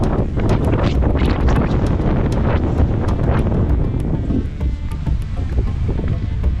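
Strong wind roars and buffets the microphone in loud, gusty bursts on Mount Baruyen in Abra, Philippines, continuous and harsh with no voices.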